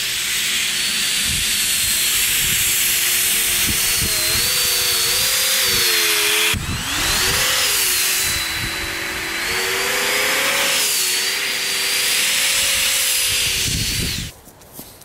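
A large radio-controlled thrust-vectoring ekranoplan model runs up and down a garden, its electric motor giving a loud, steady whining hiss that rises and falls in pitch with throttle changes and cuts off near the end.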